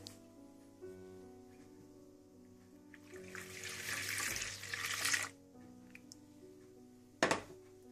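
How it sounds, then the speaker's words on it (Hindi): Lukewarm milk pours into a bowl for naan dough in a short, steady liquid rush midway, set against a low kitchen hum and followed by a sharp clunk near the end. "सबसे पहले आप हल्का गर्म दूध डाल लें"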